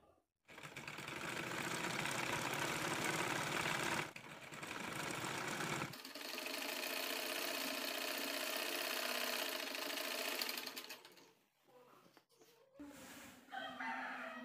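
Sewing machine stitching a nighty whirs in long, steady, loud runs, stopping briefly at about four seconds, then starting again and winding down near the end, with a few short taps after.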